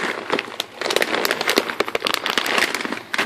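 A bag of hamster food grains is shaken, giving dense rattling and crinkling bursts close up, with a few brief pauses between shakes.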